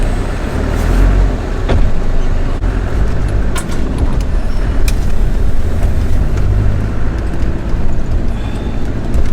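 A diesel overlander vehicle, just back from a head gasket repair, drives along with a loud, continuous rumble of engine and road noise, with a few brief knocks and rattles.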